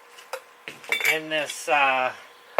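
A cheap Walmart camping stove and its fuel container are handled among bikepacking gear, producing close, loud metallic clinks and clattering in a few separate bursts, with no talking.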